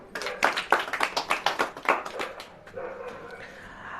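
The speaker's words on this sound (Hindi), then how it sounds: "ताली बजाएं।" A church congregation claps together at a Hindi sermon, a burst of rapid, fairly loud claps that fades out after a couple of seconds, with faint voices underneath.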